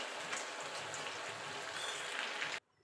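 Sabudana fritters sizzle in hot oil, a steady dense crackling fry that holds evenly before cutting off abruptly near the end.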